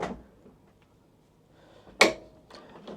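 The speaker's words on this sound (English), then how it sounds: "All the cupboards are soft close as well. Same with the drawers." A soft-close drawer in a 2025 Hymer B Class Masterline I890 motorhome slides shut, a soft thud at the start, then a sharper click near the end followed by faint rattles.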